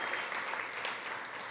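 An audience applauding at a Food Tank event at SXSW: a brief, dense, even wash of many hands clapping at a steady level.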